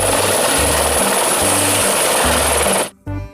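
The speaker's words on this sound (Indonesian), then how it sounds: "Selanjutnya ada helikopter lagi teman-teman." A toy helicopter whirs loudly and close, its rotor chopping in a steady pulsing rhythm with a high whine on top, then cuts off abruptly near the end before a brief restart.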